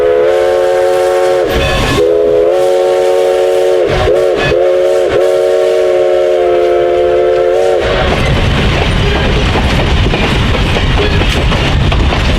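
Everett Railroad steam locomotive No. 11 blows a loud, sustained multi-tone whistle with brief breaks, then rumbles and clatters heavily along the rails up close, filling the remaining seconds with dense mechanical noise.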